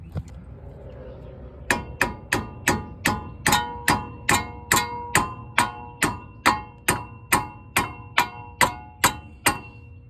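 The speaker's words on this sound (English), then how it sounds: "I lightly taps that with a hammer" A hammer lightly taps the upper control arm of a 2004 V8 Lincoln Town Car in a steady, even rhythm, about eighteen sharp ringing strikes following a short quiet start, close and clear.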